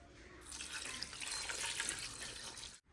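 Water runs from a tap in a steady stream into a pot with salt and turmeric for goat head curry, starting abruptly and cutting off at the end, close and fairly quiet.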